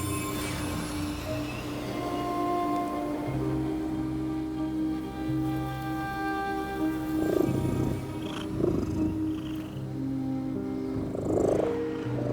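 A cat purrs in a low, continuous rumble in front of a giant burning furnace in the video game The Midnight Walk, heard close and steady alongside a droning background tone with a few soft bursts.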